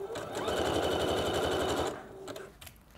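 Sewing machine stitching the crotch seam of leggings, a fast continuous whirring run for about two seconds, then stopping with a few soft clicks, close by.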